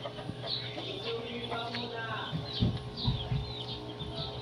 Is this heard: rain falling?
no